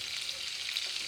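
Salmon pan-searing in butter and honey gives off a steady, close sizzle and crackle that holds evenly for the whole moment, with no voices.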